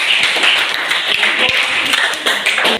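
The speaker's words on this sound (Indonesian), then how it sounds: "kita berikan aplaus untuk kelompok" A student group in a classroom receives applause: steady, dense clapping from many hands for a few seconds, with sharper individual claps standing out and voices mixed in.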